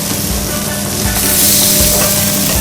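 Salmon fillets sizzle loudly and steadily in a hot frying pan, a dense continuous crackle that swells slightly partway through, with no voices.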